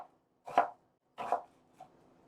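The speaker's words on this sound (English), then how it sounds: "I'm cutting half of an onion" A kitchen knife chops through half an onion on a cutting board, three crisp, close cuts spaced evenly apart, the last one softer, with quiet gaps between them and no voices.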